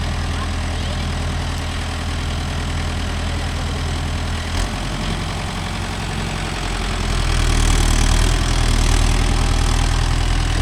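A Mahindra Yuvo Tech Plus 585 DI tractor engine runs steadily nearby with a low diesel drone, revving up somewhat louder near the end, no talk.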